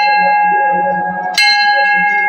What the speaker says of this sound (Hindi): जैसे मंदिर में प्रवेश करते हैं एक सुंदर सी यहाँ घंटी लगी हुई है